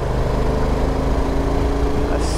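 A 2022 Honda NT1100 motorcycle engine pulling steadily while riding on a road, a close, continuous low throbbing drone with a smooth, even tone and no break throughout.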